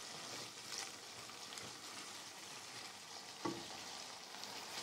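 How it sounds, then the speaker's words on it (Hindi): Chicken liver (kaleji) frying with spices in hot oil gives a steady, close hiss of sizzling with faint stirring scrapes and one brief clack near the end, and no voices. "ये देखें हमें कलेजी को भूनते हुए 1 से 2 मिनट हो गए हैं"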